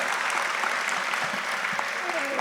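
Applause from a conference audience at a talk on social and labour reform, a dense steady patter of clapping held at an even level throughout.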